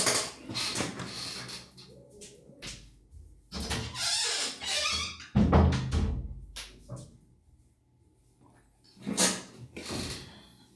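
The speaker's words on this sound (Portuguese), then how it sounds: "Deixa eu abrir a porta do cachorro aqui" A dog door being opened indoors produces a few scattered sliding and rattling bursts separated by quiet gaps, with louder clatters midway and near the end.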